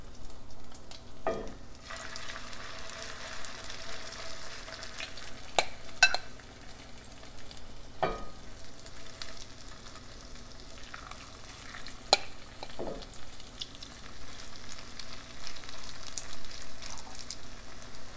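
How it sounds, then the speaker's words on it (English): Oil sizzling steadily in a frying pan as latkes fry, a soft hiss punctuated by occasional clinks of a utensil against the pan. "But the oil has to be hot. As you can see, it's sizzling."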